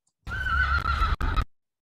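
A horse's whinny of positive emotion, one loud neigh with a steady pitched tone, briefly broken near the middle and then resuming before it stops, alone with no talk.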